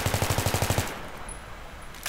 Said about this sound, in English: I would recommend you guys shoot out all of these windows before you attack